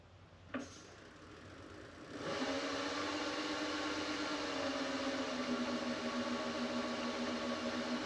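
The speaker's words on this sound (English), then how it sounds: "just do a simple fly cut and just try to smooth this off." A fly cutter on a milling machine spins up around 400 RPM to smooth metal held in a new milling vise on parallels. A click comes first, then a steady motor whir holds at even, moderate loudness with no talk.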